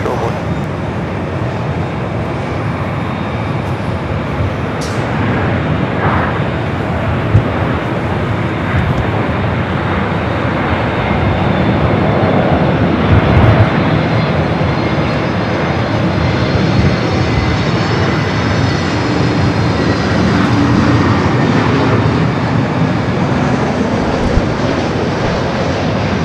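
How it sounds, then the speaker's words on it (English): A jet airliner takes off from runway 24 left at LAX, its engines roaring steadily for the whole span, loud and continuous with a broad rushing noise and a faint rising whine. "Flight 604 up next for takeoff."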